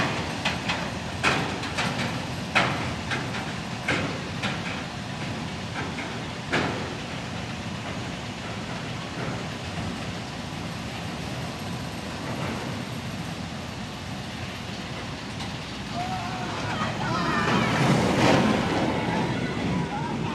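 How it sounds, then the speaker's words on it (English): A fast Coney Island amusement ride rattles and clatters like a shopping cart, with repeated metallic clicks early on and a louder rushing pass near the end, mixed with crowd noise and nearby talk. "But I call this ride the shopping cart because it sounds like a shopping cart."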